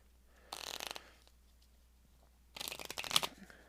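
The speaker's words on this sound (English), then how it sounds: "So I think it will be fun as we can just shuffle these up." A deck of Mystery Fluxx game cards is shuffled in two quick riffling bursts separated by a quiet pause, close and fairly crisp, with no talking.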